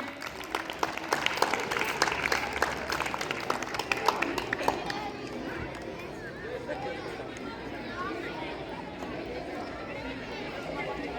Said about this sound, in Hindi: जोरदार ताली हो जाए एक बार रो गोल्ड एकेडमी के लिए।